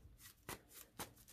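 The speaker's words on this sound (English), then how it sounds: "I'll get a couple good shuffles in." A deck of trading cards for a card game is shuffled by hand at close range, with soft rubbing riffles and two sharper slaps about half a second apart, with no one talking.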